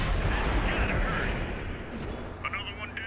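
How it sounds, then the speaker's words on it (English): The 122mm gun of an IS-8 tank fires in World of Tanks, a heavy booming blast at the start that rolls off into a long rumbling decay under game noise. "I can just sit back and put this 122mm gun to work."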